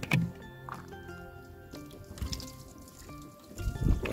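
Water rinsing over a car headlight after cleaning with product and sponge, heard as close, uneven splashing, dripping and squishing with louder bursts at the start and end.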